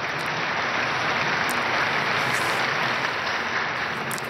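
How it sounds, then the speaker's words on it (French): Large crowd of pilgrims applauding to greet Chiquitunga, a loud dense wash of clapping sustained evenly throughout, heard from a distance across an open space. "saluons la Chiquitunga avec un applaudissement"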